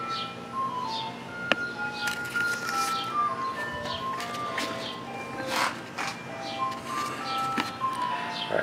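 An ice cream truck passes nearby playing its tinkly electronic jingle, a repeating melody of bright tones drifting over a low background hum, with faint clinks and bird chirps scattered through.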